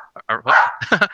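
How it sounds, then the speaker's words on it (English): A pet dog's short, close barks and yips in quick succession, lively and somewhat high, overlapping a voice in a home interview setting. "That's my dog making a cameo. If you guys can hear her."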